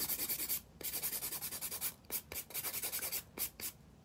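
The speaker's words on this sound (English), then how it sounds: "It's much easier to take off the bulk with the hand file than it is with the drill." A hand file rasps rhythmically against an acrylic nail, shaping it and taking off bulk in quick, close back-and-forth strokes with brief pauses between bursts, faint and alone.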